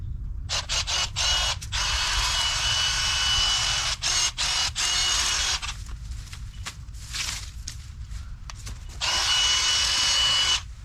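A Milwaukee M12 Fuel 8-inch cordless hedge trimmer cutting palm foliage outdoors, its high buzzing motor running in several bursts, some brief and choppy, others sustained for a few seconds, close and loud.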